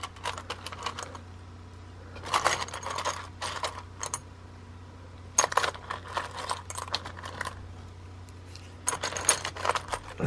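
A handful of metal washers jingle and clink as they are picked through, coming in several close bursts of rattling with quiet gaps between them.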